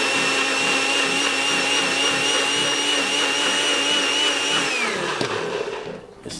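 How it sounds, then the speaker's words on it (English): A kitchen blender whirs steadily at high speed with a loud, constant whine as it purées ingredients for Somali rice, then winds down and stops near the end. "And then I'm gonna just blend this."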